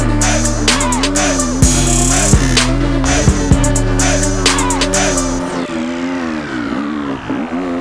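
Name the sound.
Husqvarna FC250 dirt bike climbing a hill in second gear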